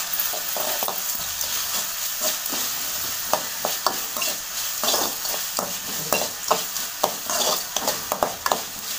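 Onions sautéing in a pan with turmeric, a steady close sizzle with repeated stirring scrapes and clinks of a spoon against the pan.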